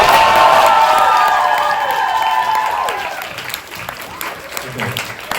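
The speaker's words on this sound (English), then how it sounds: "So can you just get one more applause for everybody here?" Applause and cheers rise from the audience at a drag show, loud at first with whoops mixed into the clapping, then thinning and fading over a few seconds.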